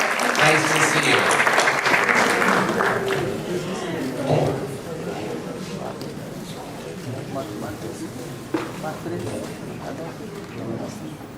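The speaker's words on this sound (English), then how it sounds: "Give her a round of applause." An audience applauds in a round for a guest from a city councilman's office at an honoree ceremony, loud dense clapping that gradually thins and softens, with voices murmuring underneath.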